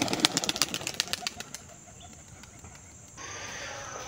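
Two pigeons released into open air, a quick burst of wing flaps and claps at the start that fades as they fly off, followed by quiet outdoor ambience and a faint steady hiss.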